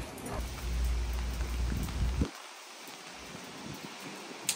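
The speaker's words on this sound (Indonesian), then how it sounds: "hujan lagi." Rain falls outdoors as a steady close patter and rumble that suddenly cuts off partway through, leaving a quieter background with faint drips and a high electronic whine.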